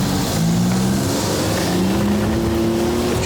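Buick Grand National car engine accelerating on a slick wet street, a loud, close, steady roar with the pitch climbing gradually as it pulls away, and no voices.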